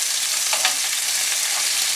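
Tuna steaks searing in a hot pan over a hot fire, glazed with honey, giving off a bright, steady sizzle with a couple of brief louder crackles near the start, close up and without talk.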